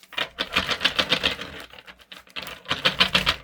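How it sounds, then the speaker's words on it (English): Rapid riffling patter of a split deck of cards being shuffled, two close bursts of fluttering clicks separated by a brief pause. "I just split the deck for a shuffle."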